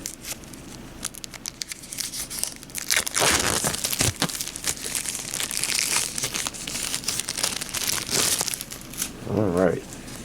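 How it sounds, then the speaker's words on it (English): Plastic wrapping being torn and crumpled off anime cards up close, loud crinkling and tearing bursts running on for several seconds, with a brief voice near the end. "Let's get this plastic off and take a look at them."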